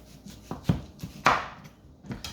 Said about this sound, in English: I'm going to start by cutting up some of the vegetables